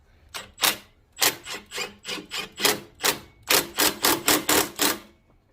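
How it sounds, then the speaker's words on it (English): A wrench ratchets in short clicking bursts while a bolt is snugged down on the alternator bracket of a Subaru 2.5L engine, about fifteen crisp, close strokes in uneven clusters with brief pauses between. "Now we're gonna tighten up this bolt."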